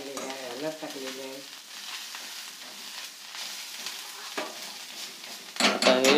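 Onion and spice mix being stirred in a pan, a soft sizzle with scraping strokes and an occasional clink, ending in a louder burst of scraping; a few brief voice-like tones early on.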